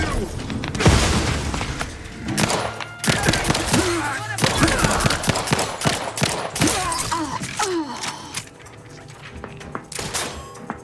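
Rapid bursts of gunfire and booming explosions from a firefight in the video game The Outer Worlds 2, loud and continuous with sharp impacts throughout, a voice speaking over the chaos.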